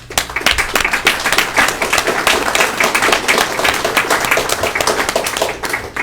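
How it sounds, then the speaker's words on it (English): Applause for a union executive board at a general membership meeting: a crowd clapping hard and fast, a dense stream of close, loud claps that holds steady throughout without talk. "we all owe your executive board a round of applause for their foresight"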